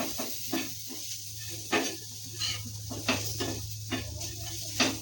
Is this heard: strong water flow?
no